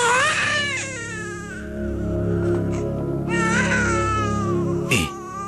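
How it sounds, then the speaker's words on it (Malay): An infant wails loudly and continuously indoors, rising and falling in long crying bursts with a sharp catch near the end, close to the microphone and without any talking. "terus dengar bayi menangis"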